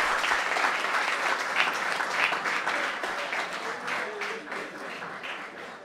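Continued crowd applause for Orlando Capata at a live show, thick and steady clapping that gradually softens toward the close, with faint voices mixed in.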